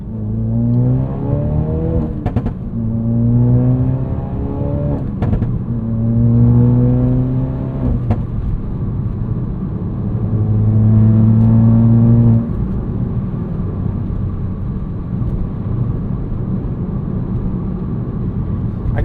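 Cabin of a 2016 Ford Focus RS, a 350 hp hot hatch, cruising on a highway: steady engine drone with repeated rising revs through gear changes, plus constant road and wind noise, loud and continuous with no talking.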